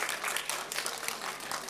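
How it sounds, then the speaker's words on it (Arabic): Children's show audience applauds Uncle Ibrahim in a steady, dense burst of clapping from a group, fairly close and even throughout, with no talk over it. "تصفيق على عمو إبراهيم. تصفيق تصفيق تصفيق."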